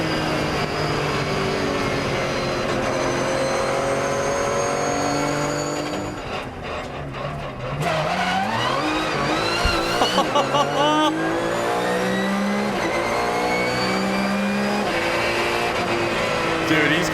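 Porsche GT3 Cup race car driven on public roads in the German countryside, its engine screaming through repeated rising gear pulls with sharp shifts, a brief dip midway, then hard acceleration again, loud and close.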